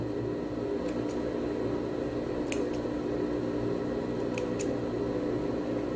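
Scissors cut fabric while a tailored women's blazer is sewn, giving a few sharp, quiet snips in pairs over a steady low room hum.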